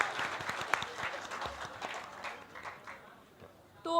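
At the ISOMES Media Fest, a crowd claps loudly for guest filmmaker and actor Tigmanshu Dhulia. The clapping is brisk and scattered, then thins to a few hands and fades before a sudden louder sound at the very end.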